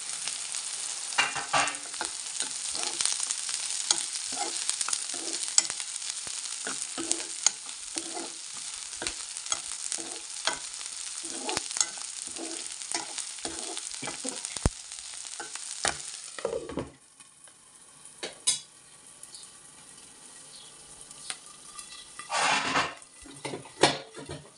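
Green chilies sizzle in hot oil in a pan while being stirred for Baglan-style quick poha, a steady frying hiss with repeated spatula scrapes and taps, close and fairly loud, ending with a few sharper clinks.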